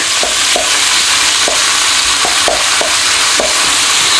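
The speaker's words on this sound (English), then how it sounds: "Nice steady sizzle on there, guys." Loud, constant frying sizzle of pork in a pan, with regular light knocks of a utensil stirring every half second or so.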